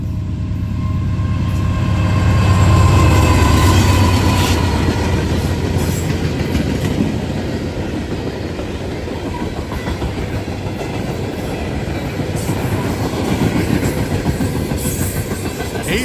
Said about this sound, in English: got NS 802 coming down. He's a coke train.